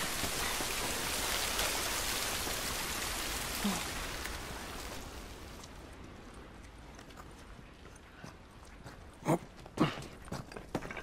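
Steady rain falls in the video game The Last of Us, a dense hiss that gradually fades, then a few louder scattered drips and taps near the end.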